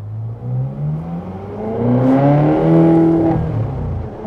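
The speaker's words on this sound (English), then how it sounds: "we're in a Ferrari, let's drop it to first gear" A Ferrari California 30 V8 revs hard in first gear from inside the car, the engine note climbing steadily in pitch and loudness, then easing briefly before rising again, with no talking.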